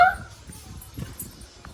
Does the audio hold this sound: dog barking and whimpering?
yes